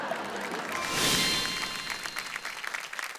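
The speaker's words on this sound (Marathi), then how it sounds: "एकदा जोरदार टाळ्या होऊन जाऊ देत या सगळ्या ताईंसाठी" A studio audience on a Marathi women's variety show bursts into applause for the women taking part, a short, dense wash of clapping that swells and then thins out.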